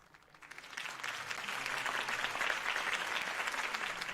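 Crowd applause swelling after a political campaign speech for Harvey Dent in the Batman: The Telltale Series video game, rising quickly and holding as steady, dense clapping.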